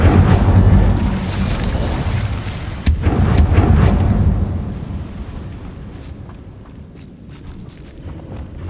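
A booming Incendio fire spell blast in a Hogwarts video game, a heavy rumbling roar with a sharp crack near the middle, loud at first, then fading into a lower lingering rumble with faint clicks.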